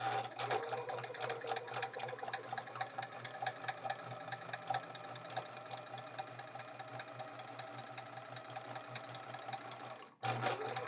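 A sewing machine stitches quilt fabric in a fast, steady chatter of needle strokes while chain piecing, running continuously up close before stopping briefly near the end and starting again.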